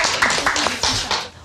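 Brief burst of studio audience applause at an EBS culture center lecture on rhinitis relief: several quick waves of clapping, fairly close, fading out at the end.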